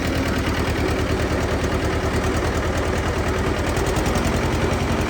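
A Zetor 1811 tractor engine runs close by, loud and steady, with a continuous rumbling, pulsing drone.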